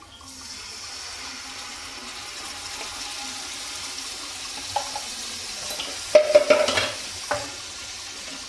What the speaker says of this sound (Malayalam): ഇതിലോട്ട് വിനാഗിരി ഒഴിക്കുന്നു.